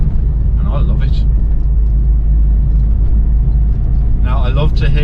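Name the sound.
1985 Ford Fiesta 1.1 Popular Plus driving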